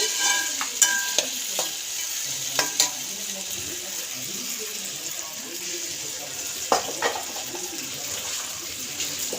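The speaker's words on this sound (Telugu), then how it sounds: "ఇది ఆలుగడ్డ ఫ్రై చేస్తున్నాము" Small potato pieces frying in oil with a steady sizzle, broken by repeated spatula scrapes and clinks against the pan, close up with no one talking.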